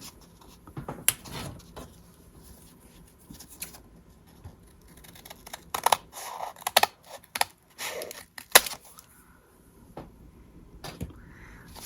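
Scissors trimming paper scraps while a booklet is put together, giving a scattering of short, close snips and rustles in irregular clusters with quiet pauses between them and no talking.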